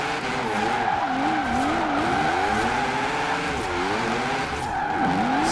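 A 1016-horsepower V8 Rocket Bunny MX5 drifts along a mountain road in Forza Horizon 4, tires squealing continuously in wavering, sweeping pitches over a steady loud engine roar.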